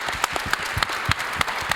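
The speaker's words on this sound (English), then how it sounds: "Yes, huge applause, Mr. Ken Fogel, for the moderation" An audience at a technology panel on Java and AI applauds the moderator, Ken Fogel. The clapping is dense and steady, with sharp individual claps standing out over a short burst.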